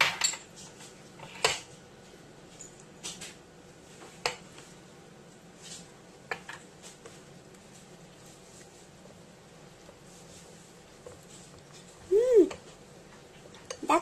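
Durian is being stirred into butter in a bowl with a utensil, producing soft scattered clinks and scrapes against the bowl, with quiet background noise and a louder clatter near the end.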